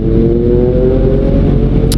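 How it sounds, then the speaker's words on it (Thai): A Kawasaki Z900 motorcycle engine revs loudly and steadily up close, a deep throaty drone that holds its pitch without pause. "แซดเก้าร้อยเสียงใหญ่เชียว"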